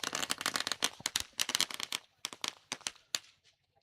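Firecrackers set off at a cricket match ground as a welcome for a guest: a rapid string of sharp bangs crackling for about two seconds, then a few scattered pops fading out.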